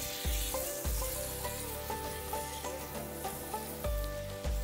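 Meat seasoned with chili powder and salt sizzles loudly in a pan over full high heat, with steady frying crackle broken by several clanks and scrapes as a spoon stirs it.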